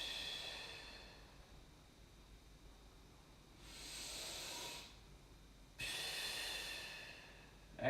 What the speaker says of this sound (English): Nice deep breath in. As deep as you can. Exhale.